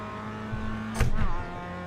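A race car in the iRacing sim accelerates through its gears, engine note rising with a loud upshift burst near the middle before climbing again, a steady close drone throughout.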